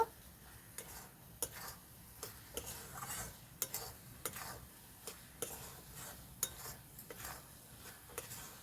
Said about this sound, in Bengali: এখন আমি দিয়ে দেবো এলাচ গুঁড়ো। ভালো করে মিক্স করে নেব।